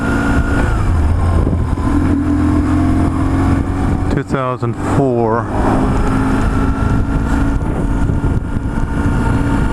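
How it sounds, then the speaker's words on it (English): A 2004 BMW R1150GS motorcycle rides along with a loud, steady engine drone and rushing wind, a brief gear change or rev near the middle, and voices underneath. "And let's ride back home. Damn, handling is good on this bike."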